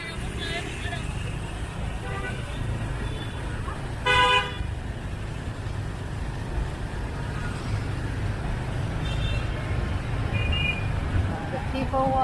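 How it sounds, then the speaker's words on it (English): Busy city street traffic in Singapore in the evening, a dense steady roar of passing cars with one short car horn toot partway through and faint voices of people nearby. "Wow, that's a lot of cars."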